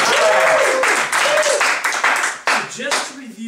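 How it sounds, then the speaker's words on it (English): An audience breaks into applause at a presenter's cue, bursts of clapping with voices and cheers mixed in, the clapping coming in waves and tapering toward the end. "thunderous applause!"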